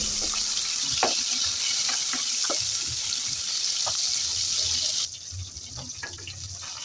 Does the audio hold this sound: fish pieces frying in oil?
yes